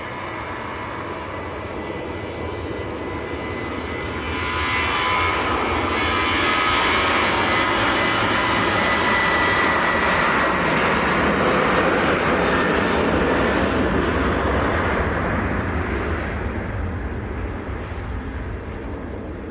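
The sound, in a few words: Etihad Boeing 787-9 airliner arriving at Manchester Airport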